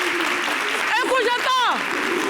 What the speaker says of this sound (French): Applaudissez pour Sarah.